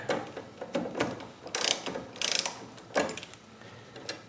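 A ratchet with a 10mm socket loosens a nut on a brake booster stud of a 1987 Oldsmobile 442, giving several bursts of close clicking at an irregular pace with short pauses between them, with no talk.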